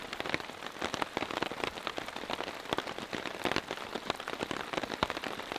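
Steady rain patters on a hard surface nearby during a storm while camping, dense irregular drops with occasional louder splats and no voices.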